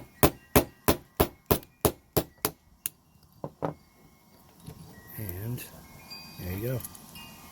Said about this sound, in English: So I'm just going to give it a couple taps.